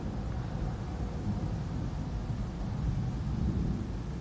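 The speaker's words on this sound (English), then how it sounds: "the thunder, it sounds like, 100 airplanes flying over" A deep, continuous low rumble of thunder from heat lightning rolls on steadily, with no voices and a broad noisy wash over it.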